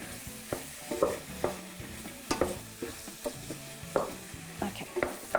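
Onions and mushrooms seasoned with salt and black pepper are stirred through oil in a frying pan, a soft sizzle under rhythmic scraping and tapping strokes of a utensil, fairly quiet and close.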